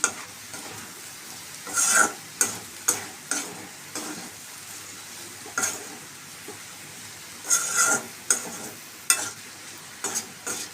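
Coconut powder being mixed into a dish in a pan, heard as repeated scraping strokes of a spoon against the pan in uneven bursts, close and fairly loud over a faint sizzle.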